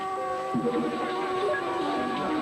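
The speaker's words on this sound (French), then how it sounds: "Ce moustique vient de repérer un décodeur Sagem pour télévision numérique." Thin, high mosquito whine hovering close, wavering slightly in pitch, with no talking.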